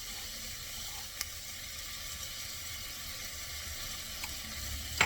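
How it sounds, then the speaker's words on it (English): Frozen cilantro and broad (fava) beans sautéing in a pan, a soft steady sizzle with faint occasional clicks of a utensil, heard alone at low level. "I'll saute this for 2 minutes"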